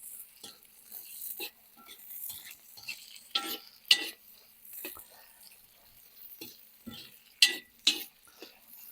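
Onions sizzle and crackle in a hot cauldron while being stirred, with scattered scraping clinks of a utensil against the metal.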